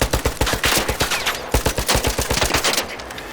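Automatic gunfire in the video game ARC Raiders rattles out in fast, loud bursts of sharp shots with brief gaps, close and with no talking over it.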